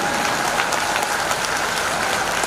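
Audience applause at a mushaira poetry recital in Nagpur, a steady wash of many hands clapping at a distance, continuous and even throughout.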